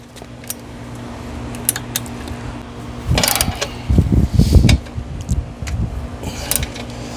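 Metallic clinks and scraping as a washer and bolt are fastened on an OUTFITR two-bike hitch rack for fat tire e-bikes, a few close rattling bursts over a low steady hum.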